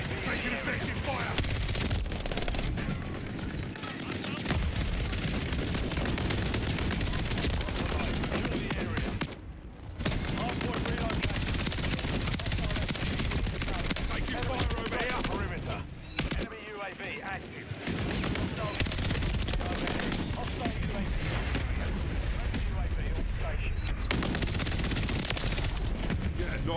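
Constant, loud automatic gunfire and explosions fill a Modern Warfare III multiplayer match, with overlapping bursts of rapid fire continuing almost without pause, briefly dropping out twice before resuming, while game voices call out over the din.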